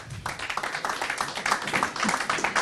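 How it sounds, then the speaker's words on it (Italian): An audience claps for a newly presented youth football player at a Rimini squad presentation, a fairly steady patter of many hands at moderate level that runs throughout. "Applauso"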